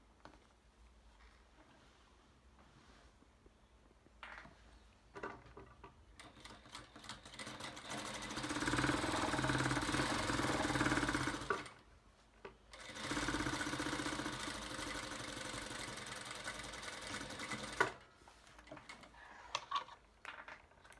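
A sewing machine stitches two summer dress sleeve pieces together with a steady whirring run, stops briefly, then runs again. It is close but fairly soft, with some quieter handling noises before and after, and no talk.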